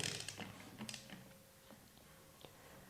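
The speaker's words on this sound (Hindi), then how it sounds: "14 मिलीमीटर का जो सॉकेट है उसकी हेल्प से हम जो मैग्नेट है उसको रोटेट करेंगे" A 14 mm socket on a ratchet turns the magnet side of a Karizma R engine, giving quiet clicking and creaking mechanical ticks in an uneven rhythm, faint and close.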